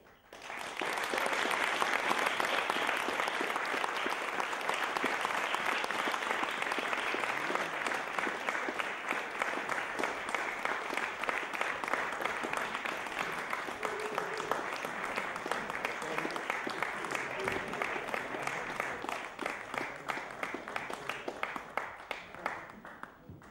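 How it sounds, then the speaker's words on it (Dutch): A concert audience gives warm applause to welcome the first band of the evening at an acoustic music event in Edam-Volendam, dense clapping that swells quickly, holds for a long while and then thins near the end. "Ik geef u ik vraag een warm applaus voor de eerste artiesten van vanavond."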